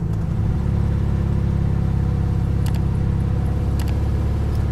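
An old air-cooled VW Beetle, abandoned for decades in a barn, drones steadily in third gear as it rolls along, a loud, even engine rumble with a couple of faint metallic clicks.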